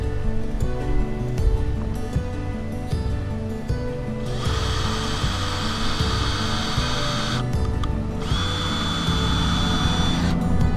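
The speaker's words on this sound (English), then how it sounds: "We'll drill that other hole." Power drill boring a hole for a self-latching gate latch, with clicking and ratcheting mechanical noise followed by two sustained whining bursts of the drill running, loud and close.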